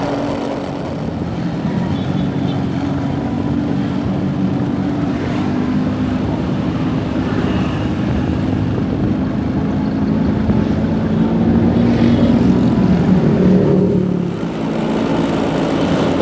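A two-stroke Vespa scooter engine drones steadily while riding on roads around Bekasi near Jakarta, a continuous buzzing hum mixed with wind rush and passing traffic, fairly loud and close, with no talking.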